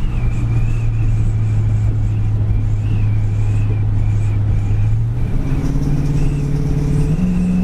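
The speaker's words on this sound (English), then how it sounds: "The engine sounds great when you rev it up." A 1967 Mopar V8 car engine idling with a steady low hum, then the pitch rises as it revs up and holds higher near the end.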